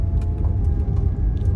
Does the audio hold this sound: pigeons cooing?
no